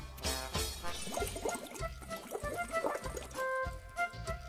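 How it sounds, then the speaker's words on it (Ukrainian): Bubbling water in a cup blown through a straw, used as a noise instrument in a children's music lesson; steady gurgling bursts come in a regular rhythm, close and continuous for several seconds. "стаканчик з водою та трубочкою."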